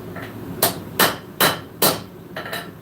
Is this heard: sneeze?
no